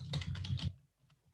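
A computer keyboard being typed on, a quick close burst of several keystrokes over about half a second, then near silence with one faint later click.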